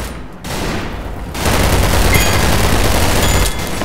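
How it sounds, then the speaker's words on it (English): Sustained Vindicator gunfire in a video game, a dense rattling burst that swells louder after a brief lead-in and keeps going without talk. "Wow, I got shot by a Vindicator!"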